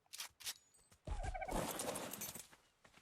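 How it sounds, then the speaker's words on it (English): Parrots in ARK with the Primal Fear mod let out a loud, harsh squawking burst, preceded by a couple of short chirps, close and fairly brief. "The parrots seem way easier to tame than anything else."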